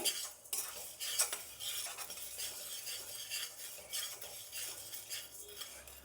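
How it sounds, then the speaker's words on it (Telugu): Urad dal and chana dal dry-roasted in a pan without oil, giving a steady, faint rustle of dry lentils scraped and stirred, with light metallic clinks of the spoon against the pan. "వీటికి నూనె లేకుండా డ్రై రోస్ట్ వేయించుకోవాలి."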